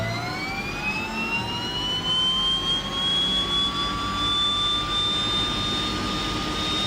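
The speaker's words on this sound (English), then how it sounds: "I just love that turboprop." A DHC-6 Twin Otter turboprop engine spins up in Microsoft Flight Simulator, a rising whine climbing steadily over a constant roar with no voices, loud and continuous throughout.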